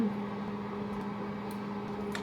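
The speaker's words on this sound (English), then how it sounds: "I'm gonna throw it back in the microwave for 1 minute." A microwave oven runs while heating cream of rice, giving a steady low electrical hum with a faint whirring drone, close by and unbroken for the whole stretch, with no voices.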